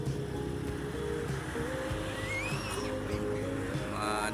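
Rough surf crashing steadily at a beach with high seas, a continuous broadband wash with wind, joined by a passing motor hum and a faint whistle-like tone partway through.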